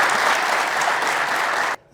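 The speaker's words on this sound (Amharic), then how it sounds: "በድጋሚ አጨብጭቡለት ለዚህ ሰው ይፍሬ ነው።" Dense audience applause at a training seminar, a sustained close burst of many hands clapping that cuts off abruptly near the end.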